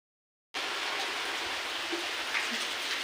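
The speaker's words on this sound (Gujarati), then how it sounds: "ફ્રેન્ડ્સ વરસાદ ચાલુ થઈ ગયો" Steady rain pouring down on a house terrace, a dense continuous hiss that starts abruptly and holds evenly loud throughout, with no voices.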